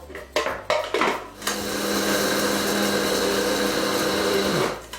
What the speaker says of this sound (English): We grind that into somewhat of a flour